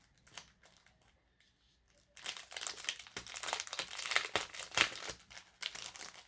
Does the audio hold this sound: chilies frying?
no